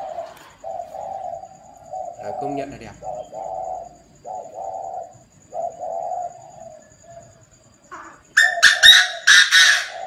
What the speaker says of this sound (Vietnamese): con chim này là chim gì trông rất lạ đấy